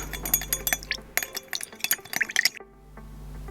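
A metal spoon clinks repeatedly against a glass as rice milk and white vinegar are stirred, quick bright taps in an uneven rhythm that stop abruptly, leaving quiet.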